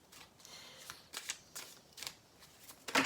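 Tarot cards are shuffled and drawn by hand in a quiet room, making soft, close riffling and flicking with a sharper snap at the end.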